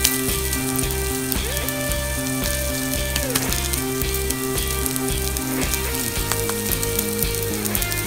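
Beef stomach (estomaguillo) grilling on a parrilla gives a steady, close sizzle that runs continuously without pause, with no voices over it.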